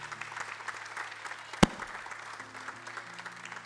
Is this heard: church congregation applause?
yes